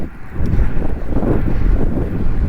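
Strong wind buffets the microphone outdoors while cycling, a loud continuous low roar and rumble with no other clear sounds.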